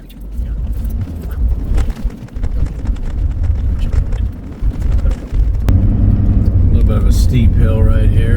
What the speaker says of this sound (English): It's a slow ride. This is a really rough gravel.